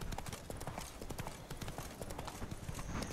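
Rapid clip-clop of horse hooves galloping steadily in The Witcher 3: Wild Hunt – Blood and Wine, close and continuous, with a busy rhythmic patter throughout.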